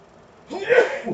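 A single sharp sneeze nearby, a quick breathy burst following a moment of quiet.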